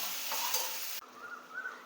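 Steady hissing sizzle of ginger and garlic sautéing in a hot pan, with a brief shift in tone partway through as they are stirred; no voices.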